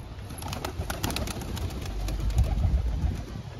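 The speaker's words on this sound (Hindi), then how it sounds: "तो भाई फुल तेज कबूतर है" Pigeons coo softly and repeatedly outdoors, with a low rumbling background and a few sharp clicks or chirps scattered throughout.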